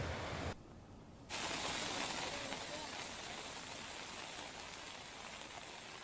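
Dense, steady hiss of heavy monsoon rainfall in Chhota Udepur district, briefly dropping out near the start before resuming at full strength.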